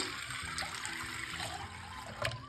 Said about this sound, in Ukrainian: Миску висипаємо квасолю, заливаємо її водою.